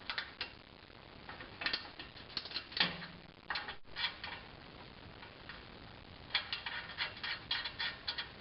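A ratcheting tool clicks while turning 12mm nut heads, uneven bursts of close, sharp ratchet ticks with brief pauses and no talking.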